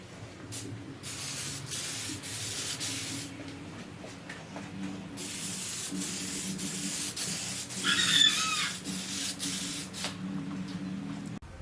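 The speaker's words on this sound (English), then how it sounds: "let me get started on the candy so you can see how the candy is sprayed" A spray gun lays candy paint onto a logo, hissing in long sustained bursts separated by short pauses, close and fairly loud with no talking.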